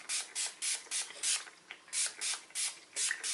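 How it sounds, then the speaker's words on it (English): A Mario Badescu setting spray is pumped onto a face, about nine close, crisp hissing bursts in a steady rhythm with short gaps between them. "I'm spraying it good because I want to set my makeup."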